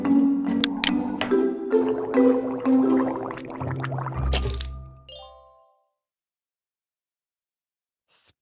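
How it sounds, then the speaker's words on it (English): Cartoon-style water cup tapped in a children's bedtime routine game, rinsing teeth: a run of drippy plops, gurgling splashes and squishy liquid sounds over a few seconds, ending in a soft sloshing tail, then near silence with a faint final chime. "Rinse my teeth by tapping the water cup."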